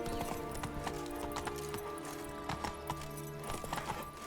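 Horse hooves clip-clopping in The Witcher 3 video game, a steady trotting rhythm of close, even hoofbeats over the game's continuous background music.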